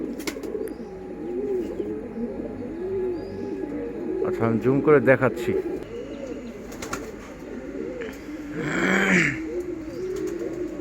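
Pet pigeons coo repeatedly and nearby in a steady rolling pattern, with someone speaking briefly over them and a short burst of wing flapping partway through.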